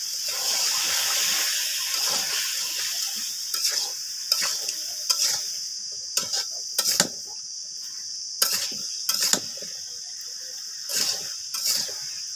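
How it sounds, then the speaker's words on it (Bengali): Taro stolons frying in a spiced shrimp masala, giving a steady loud sizzle broken by repeated sharp scrapes and clacks of a stirring spoon against the pan. "আমি এর ভিতরে হচ্ছে কচুরলতিগুলো দিয়ে দেবো"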